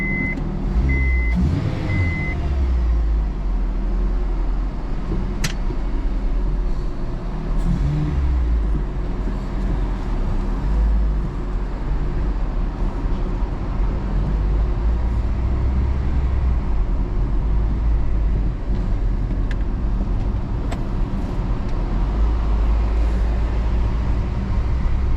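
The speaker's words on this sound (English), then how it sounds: "let me test drive it." An Acura RSX car on a test drive gives a continuous low road and engine rumble inside the cabin, with a short electronic beep near the start.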